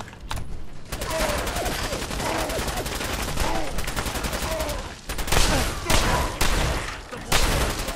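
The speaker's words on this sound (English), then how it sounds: "Oh, I'm shooting my own people." Gunfire in Fallout 4 inside a bottling plant, with rapid bursts of loud close shots that come in sharp volleys and stop briefly before starting again.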